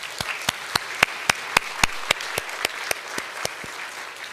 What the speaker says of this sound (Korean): 올 한 해도 더 열심히 섬길 수 있도록 우리 격려의 박수 보내도록 하겠습니다.